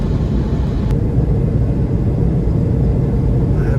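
A vehicle drives at speed along a remote highway past Matagami toward Radisson, a steady, loud, continuous road and engine rumble heard from inside. No one speaks.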